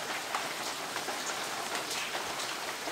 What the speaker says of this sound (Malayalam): നല്ല പുറത്താണെങ്കിൽ നല്ല മഴയാണ് അല്ലേ മാം?